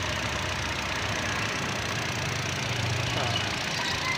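A 2024 Kia Sonet engine runs after a radiator repair, holding a steady, continuous idle drone that sits close and even throughout with no breaks.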